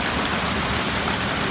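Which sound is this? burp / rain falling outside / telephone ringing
rain falling outside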